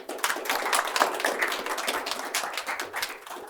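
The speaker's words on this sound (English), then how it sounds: "Can we please give him a round of applause" Dense audience applause at a World Forum panel on ending extreme poverty, steady broadband clapping filling a large room for several seconds without pause.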